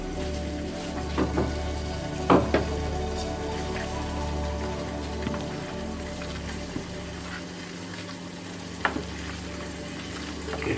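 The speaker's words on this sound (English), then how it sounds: "My stew is boiling very well." A pot of stew boils hard on a home stove, giving a steady bubbling sizzle with occasional sharper pops and spatters, fairly close and loud, with no talking.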